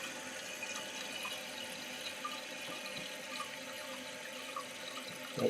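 Water squirts steadily from the top of a newly installed Fluidmaster toilet valve, a continuous hissing spray heard close up with no voices.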